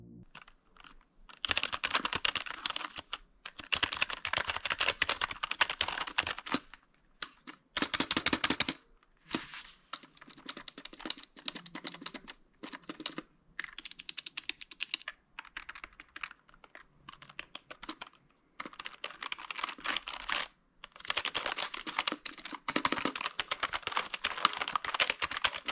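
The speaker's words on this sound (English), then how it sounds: "Now I'm gonna do a quick sound test so you can hear the keys." LANGTU W1 wireless gaming keyboard keys clacking in bursts of rapid typing, alternating firm presses and lighter taps, close and clear with short pauses between runs.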